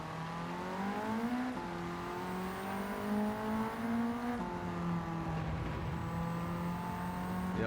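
Ford Sierra RS500 Cosworth engine in Gran Turismo 7 on a wet, greasy Le Mans circuit, a steady loud drone whose pitch climbs, then briefly dips and stutters as traction control cuts in, twice over the run.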